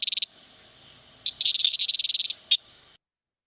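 Cricket frog call from Indian grasslands: rapid high-pitched clicking trills in short bursts with gaps between, close and clear over a faint steady insect-like hum.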